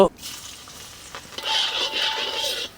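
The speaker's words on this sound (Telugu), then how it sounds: "కడాయి పెట్టుకుని 4 చెంచాలు నూనె వేసుకొని 10 వెల్లుల్లి రెబ్బలు," Garlic cloves fry in oil in a kadai, with a steady hissing sizzle that swells partway through, heard up close with no talking.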